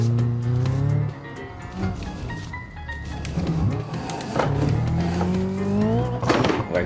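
A car in BeamNG accelerates at full throttle, its engine note climbing and dropping through gear changes with rising whines and a squeal near the end, loud and close throughout without speech.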